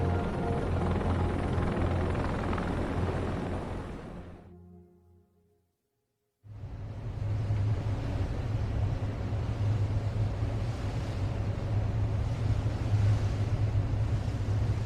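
Military helicopters flying during the Vietnam evacuation, shuttling between the embassy and aircraft carriers: loud, continuous rotor roar with a steady low thump, breaking off into a brief silence before the heavy drone resumes.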